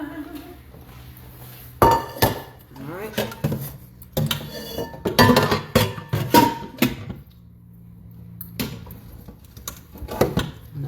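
Dishes, pots and cutlery clatter and clink in bursts as a bowl is pulled out while taco meat cooks, close and fairly loud, with short quiet gaps between the clanks.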